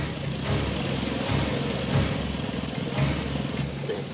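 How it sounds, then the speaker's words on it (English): A 14-ton sand crawler vehicle in a cartoon rumbles along slowly, its low engine drone pulsing in a steady rhythm close by. "Blasted sand crawler's slower than a rock snail."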